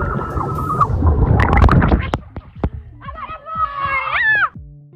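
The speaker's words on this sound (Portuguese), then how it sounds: "a gente dá um grito lá embaixo" People scream together as an amusement ride drops, a loud burst of mixed shrieking followed by a rising, wavering high-pitched scream that trails off near the end.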